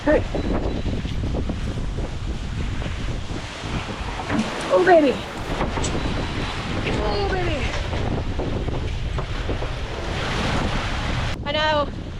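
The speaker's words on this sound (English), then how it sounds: "But these waves are pretty significant." Large ocean waves and gale-force wind batter a sailboat in 40+ knot winds and 20-foot seas, a constant loud roar of wind noise and surf with surging swells, and a voice calls out briefly over it.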